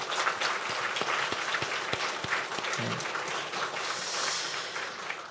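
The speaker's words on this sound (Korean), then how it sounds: "우리 하나님께 한번 큰 박수로 한번 감사를 올렸으면 좋겠어요" A church congregation claps together at a year-end Sunday service, steady sustained applause from the room with a few sharp individual claps standing out, fairly soft and distant.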